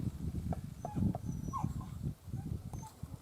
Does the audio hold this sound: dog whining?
yes